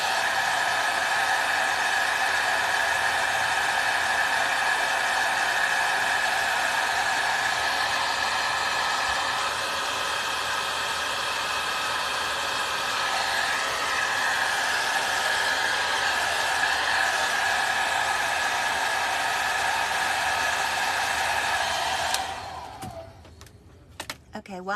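A hair dryer blows steadily on the front of a gourd being made into a scarecrow, a loud continuous whir held for most of the stretch before it switches off, followed by a few small handling knocks near the end.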